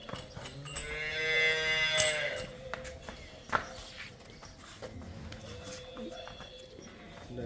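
A cow lets out one long, loud moo close by, followed by quieter farmyard sounds and a few faint thumps, on a dairy farm.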